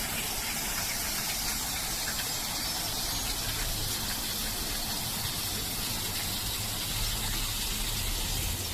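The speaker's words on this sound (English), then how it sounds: "that's one of the overflows for the Rivelin Corn Mill Dam, which is still there." Water pours through an overflow of the Rivelin Corn Mill Dam, a constant rushing, hissing gush that holds steady and fairly loud from start to finish with no voices.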